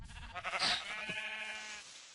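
Sheep in a video game give one long bleat, loud and wavering, heard alone against a quiet backdrop.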